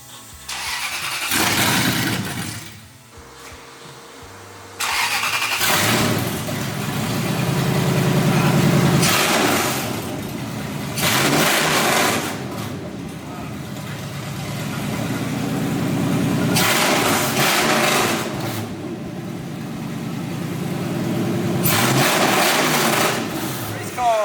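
A Toyota 4Runner race car engine revs loudly in repeated bursts, dropping back to a rough idle between them, with voices talking briefly near the start.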